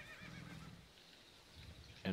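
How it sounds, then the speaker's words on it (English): A horse mount in the online game Tera gives a short whinny with a faint hoof clatter, followed by a quiet pause and a sudden louder thump at the end. "If you press space, you can like neigh and kick his legs up and stuff."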